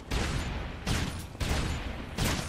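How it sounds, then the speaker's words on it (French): Bursts of rapid gunfire cut down zombies in the Dead Rising 3 Fallen Angel add-on on Xbox One: about four loud, dense volleys, each roughly half a second long, separated by short gaps. "je vais continuer encore un petit peu à tirer sur les zombies"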